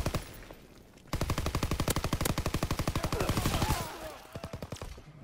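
A weapon in a WW2 video game fires a rapid, evenly spaced automatic burst lasting about three seconds, loud and close, followed by a shorter second burst.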